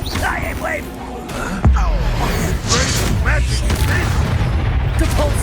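Booming blasts and whooshing spell effects from combat in Hogwarts Legacy, loud and dense throughout, with a heavy impact near the middle and a voice shouting over the action.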